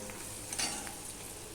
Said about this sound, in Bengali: দেখো পেঁয়াজটা লাল লাল হয়ে ভাজা হয়ে গেছে